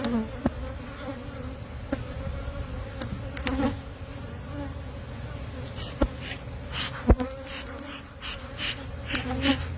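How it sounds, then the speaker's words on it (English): A swarm of honey bees fills the air with a continuous, dense buzzing that stays close and steady throughout, broken by a few sharp clicks and light knocks. "That's insane, the amount of bees that are already up there."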